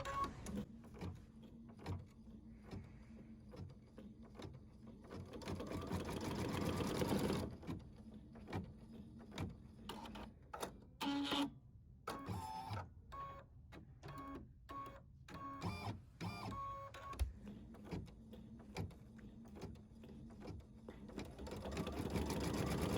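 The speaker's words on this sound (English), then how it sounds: "Thread the matte thread and embroider the hand look stitching color number 5." An embroidery machine stitching with matte thread, a hand-look stitch pattern, running at a fast steady mechanical whir with bursts of sharp rapid needle ticking and brief pauses, close and alone.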